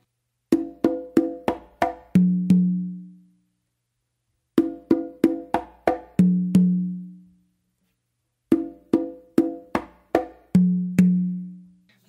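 Patato-style conga tumbao on a set, with quick open tones and slaps that end on two ringing lower open tones on the tumba. The phrase plays three times, close and loud, with clear pauses between.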